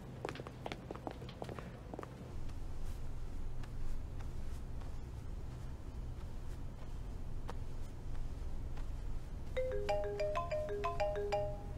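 Mobile phone ringtone chiming in a short melodic burst near the end, following footsteps and ambient room noise in a tense police action drama scene.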